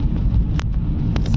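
Mercedes camper van driving along a road, a steady low engine and road rumble with wind noise running throughout, plus a couple of brief higher bursts of rattle or hiss.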